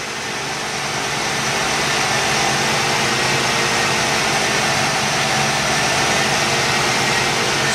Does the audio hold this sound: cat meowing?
no